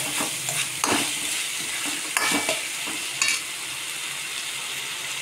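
Mushrooms crisp in a hot pan for a mushroom gravy, frying with a steady sizzle broken by several scraping stirs of a spoon.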